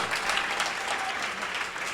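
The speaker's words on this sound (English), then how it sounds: "Now you can applaud for that poem." An audience at a poetry reading applauds a just-read poem with steady, dense clapping that holds at an even level throughout.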